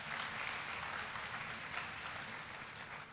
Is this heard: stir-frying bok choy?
no